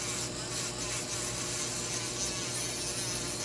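A hand tool grinds hard burrs off the edges of steel forks cut with bolt cutters, a steady continuous rasping whir held close and fairly loud throughout, with no talk.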